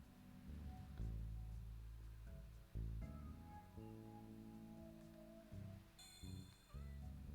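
Cats meow in the video game Summer Paws, a few short calls layered over steady tonal game music that plays throughout.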